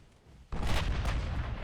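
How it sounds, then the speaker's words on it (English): Heavy battleship guns fire in a naval video game set in a 1920 German fleet: after half a second of low ambience, a loud booming blast erupts and rolls on as a sustained, rumbling roar. "Mecklenburg shooting at the back"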